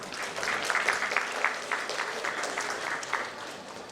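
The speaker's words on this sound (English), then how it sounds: "Can we welcome Priya with a big round of applause, please?" Summit audience members give a round of applause to welcome a panel moderator, a sustained crowd clapping of moderate loudness with individual claps popping out, gently tapering toward the end.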